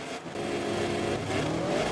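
Motorcycle engine revving at the start of the Thailand Grand Prix in the video game MotoGP 24, a steady, loud, high-pitched engine drone held close and continuous, with no talk.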